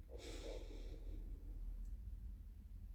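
One deep breath drawn slowly in through the nose, heard as a soft airy rush near the start that fades into a quiet hum of room tone and faint background noise.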